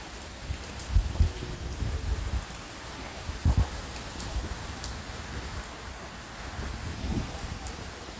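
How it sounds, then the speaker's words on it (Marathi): Steady rain hisses alongside gusty wind and rustling, with a few louder thumps and knocks nearby; no one speaks. "बघू शकता पाऊस आलाय बघा हे पण वारं सुद्धा किती जोरात आहे खूप जोरात वारा आहे आणि पाऊससुद्धा आहे"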